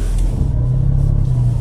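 A car creeps slowly past a parked bike while turning left, its engine a steady close low rumble with a faint rising hum and no other sounds.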